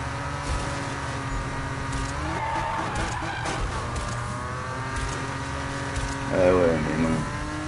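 A car drifting in the Need For Speed video game, engine revving in sustained tones with a tire squeal and skid rising near the end, under a player's talk.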